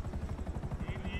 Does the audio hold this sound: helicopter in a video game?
yes